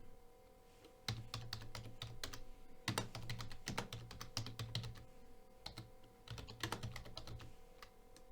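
Quiet clicking of a computer keyboard as a short commit message is typed, keys tapped in quick uneven bursts separated by brief pauses, close and soft with no talking.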